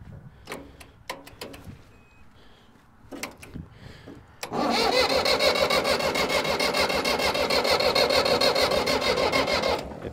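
Old Case diesel tractor engine being cranked to start: several short sharp bursts and pauses, then the engine catches and settles into a loud, steady rapid chugging idle.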